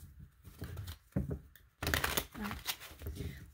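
Tarot cards are shuffled in quick riffling bursts, soft papery flutters and taps with brief pauses between, close by and alone.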